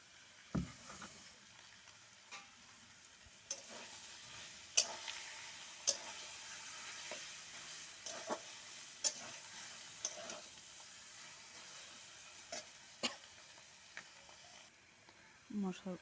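Mushrooms fry with spices and dried chilli powder in a pan, giving a faint, steady sizzle with scattered sharp taps and scrapes of stirring.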